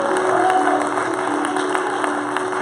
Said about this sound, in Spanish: Denle un fuerte aplauso al que vive para siempre.